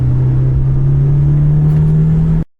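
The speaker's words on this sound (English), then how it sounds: "So is Chris's S2000, an absolute weapon of a car." Honda S2000 sports car engine running close by, a loud steady droning hum with a slowly rising pitch as it revs, then cutting off abruptly, no voices.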